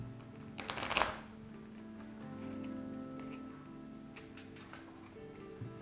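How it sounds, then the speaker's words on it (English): A deck of cards is shuffled during a tabletop game of Marvel LCG. A quick, quiet riffle bursts near the start, followed by faint handling rustles over a low room hum. "So we'll have to shuffle our deck"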